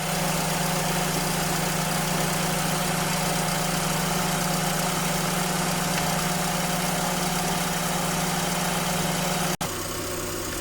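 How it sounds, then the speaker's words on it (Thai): Steady mechanical hum and whir of a Daihatsu Mira air conditioning compressor running, constant and close, ending with a brief click near the end. "คอมแอร์ทำงานนะคะเสียงคอม เงียบลงนะคะ"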